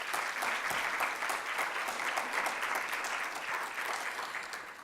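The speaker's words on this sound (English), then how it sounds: "So thank you very much, and another round of applause." An audience at an annual university lecture applauds, a steady, even round of clapping heard from a moderate distance and fading slightly toward the end.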